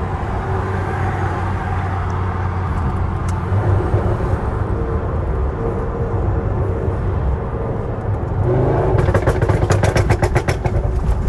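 A 1000 hp Audi RS6 V10 on the road gives a loud, droning engine and exhaust note that swells, then ends in a burst of rapid crackling pops from the exhaust.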